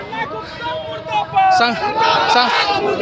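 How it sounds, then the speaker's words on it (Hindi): Protesters at Nimdih crossing chant slogans against Hemant Soren over the 60-40 policy, a loud mass of raised voices that swells and turns more shouted toward the end. "देखिए पूरा एकदम हेमंत सोरेन मुर्दाबाद का नारा लगाते हुए हैं।"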